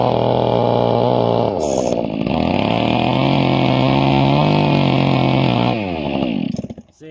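A chainsaw cuts into wood with the bottom of its bar during a kickback demonstration, its engine roaring loud and steady for several seconds, pitch dipping under load, before it drops off at the end.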